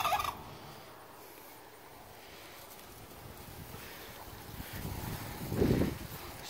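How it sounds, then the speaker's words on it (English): Royal Palm turkeys gobble in an outdoor pen shared with chickens, a soft call at the start and a louder, nearer gobble near the end over steady wind noise on the microphone. "These are the royal palm turkeys"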